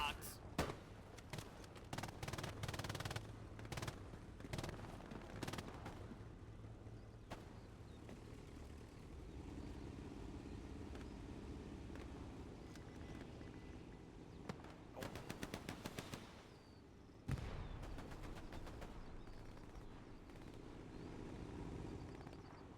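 Tank guns fire during a competitive online tank game match, with bursts of sharp rapid shots and bangs, loud at first and again later, under a commentator's voice.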